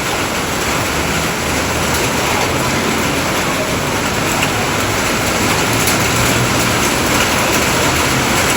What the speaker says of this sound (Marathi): इकडे मगासपासून चांगलाच पाऊस चालू झाला आहे आंबतच नाही आहे चांगला जोरात आहे